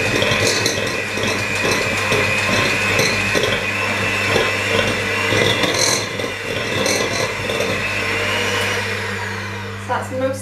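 Electric mixer whirring steadily as an egg is beaten into chocolate orange cupcake batter, a loud continuous motor drone with someone speaking over it.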